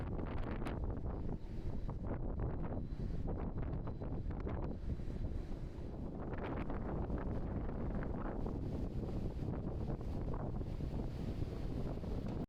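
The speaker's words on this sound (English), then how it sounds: "On the top deck, it's very windy." Heavy wind sweeps across the open top deck of a cruise ship at sea, a loud, constant roar with buffeting gusts hitting the microphone, no voices.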